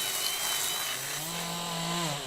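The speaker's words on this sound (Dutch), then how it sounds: "mijn hoofdgereedschap is de motorkettingzaag" A chainsaw carving a wooden tree sculpture runs loud and steady throughout, its engine pitch shifting slightly as the chain bites into the wood.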